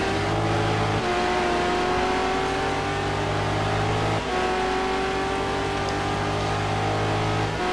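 A 2003-2004 Corvette C5R race car engine at full power at Road America, loud and steady with shifting engine tones and gear changes, no voices.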